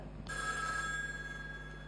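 A telephone rings on a live call-in television show, a sustained electronic bell tone that starts abruptly after a brief pause and holds steady, moderately loud over a low studio hum.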